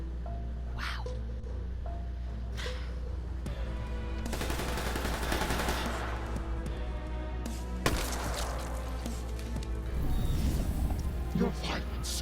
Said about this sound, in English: Oh, saved by the gunfire!